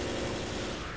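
Dense gunfire from the zombie shooter Left 4 Dead pours down into a hole as a loud, continuous burst of shots with no pauses.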